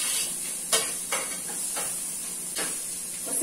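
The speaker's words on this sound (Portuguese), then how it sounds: "Agora vamos adicionar o alho. Continuar aqui refogando" Onion and garlic sizzle steadily in a hot pan for farofa, with a continuous frying hiss broken by several sharp scrapes and stirs of a utensil against the pan at irregular moments, close and clear, with no talking.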